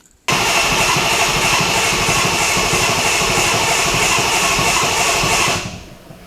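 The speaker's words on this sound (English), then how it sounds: "We're going to crank it until we actually see oil pressure here first" A built, twin-charged 392 Hemi V8 engine in a Dodge Magnum cranks over steadily and loudly for several seconds to build oil pressure, with a rapid rhythmic chugging, then winds down and stops.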